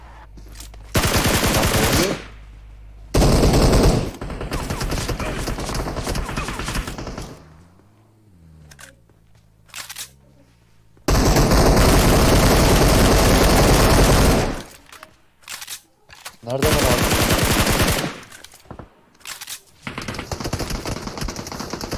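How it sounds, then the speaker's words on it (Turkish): Gunfire rattles in an online shooter match, with loud automatic bursts and sustained volleys broken by short quieter gaps. "Sağ taraftan sıkıyorlar."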